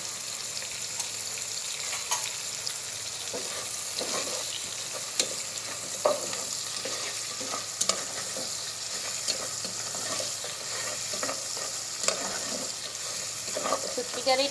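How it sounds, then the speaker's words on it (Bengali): Onions frying in oil with salt in a home kitchen, a soft continuous sizzle with occasional clicks and scrapes of stirring, fairly quiet and steady throughout. "লবণ দিয়ে তেল দিয়ে পেঁয়াজগুলোর সাথে যে শুকিয়ে একটু ভেজে নিলাম"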